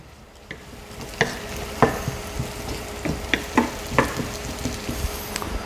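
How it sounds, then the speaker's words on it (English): Potatoes cooking slowly in a pan on low heat, a soft sizzle broken by intermittent scraping and stirring clicks, close and fairly quiet. "So I'm cooking that on low heat to make sure that potatoes get cooked all the way."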